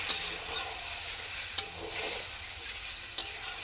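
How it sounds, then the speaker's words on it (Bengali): Spice paste frying in a pan while being stirred, a constant sizzling hiss broken by a few sharp clicks of the spoon against the pan. "মশলাটা পুরো কষে নিয়ে"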